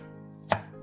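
A kitchen knife gives a single crisp chop through onion on a cutting board for beet soup, a short sharp knock against a faint low hum, with no voices.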